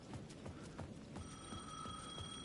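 A payphone rings in the horror video game Alan Wake 2, its bell tone starting partway through with a sustained electronic chime. Soft rhythmic knocking footsteps sound throughout, all fairly faint.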